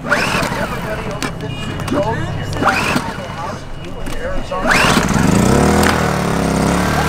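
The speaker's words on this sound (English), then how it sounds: "it takes two to three pulls to pull the propane from here over to the carburetor on this side" An ALP propane generator pull-started with a few rough recoil pulls and sputters before its small engine catches and runs steadily close by, with talk over it.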